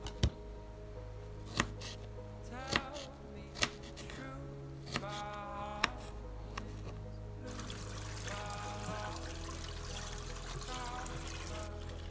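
A knife chopping an onion, giving five or six sharp, widely spaced cuts against the board over a quiet musical backdrop, with the chopping fading out toward the end.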